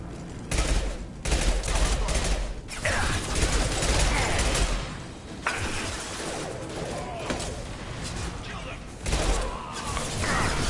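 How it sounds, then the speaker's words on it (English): Gunfire from a Mass Effect 2 battle rattles in dense, repeated volleys with brief gaps between bursts, and a voice talks over the shooting. "Blue Suns and Vorcha shooting anything that moves"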